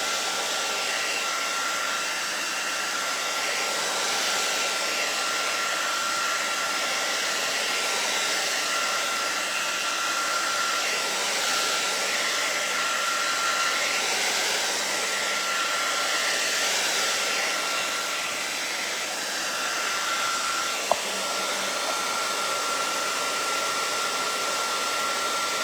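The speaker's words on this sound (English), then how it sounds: "Nice hot dryer." A hot hair dryer blowing on wet acrylic paint runs as a steady, loud whooshing roar with an even whine, unbroken for the whole stretch apart from one faint tick.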